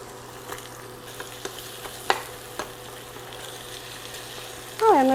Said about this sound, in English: once it starts sizzling, we're going to go ahead now and add the potatoes